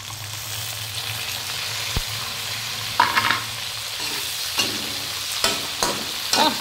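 Tomatoes sizzle in a hot pan with browned garlic, a steady close frying hiss broken by several sharp stirring scrapes and clacks toward the end.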